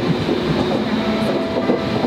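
A train on the Dublin to Tralee line rumbles past steadily and loudly at Mallow, a constant rolling roar with faint rhythmic wheel clatter throughout.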